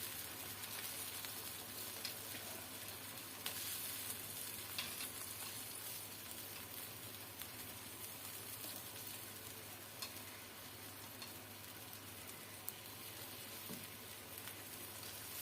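Curry with tomatoes cooking in a pan, a faint steady sizzle and crackle with occasional small pops and stirring clicks, no talking.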